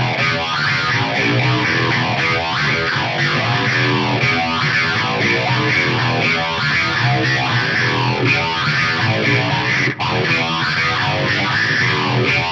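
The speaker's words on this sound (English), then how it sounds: "Then you add the phaser to all of that and it sounds like this." Dense, distorted electric guitar through a stacked Fractal FM3 preset with a squelchy filtered tone and a swirling phaser sweep, playing continuously and loud for the whole stretch.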